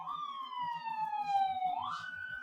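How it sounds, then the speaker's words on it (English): Ambulance siren wailing outside, a steady rising-and-falling tone heard at a distance over low background chatter and indistinct sounds. "Oh, now there are real sirens outside."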